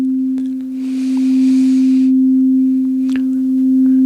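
A crystal singing bowl is played with a silicone-sleeved crystal rod, giving one clean, steady sustained tone that rings alone at constant loudness with a few faint taps over it.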